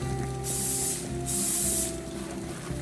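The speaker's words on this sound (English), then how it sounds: "I'm gonna spray my spatula here with just a little bit of cooking spray" Two short hissing bursts from an aerosol cooking spray can onto a spatula, close up, with a faint mechanical hum underneath.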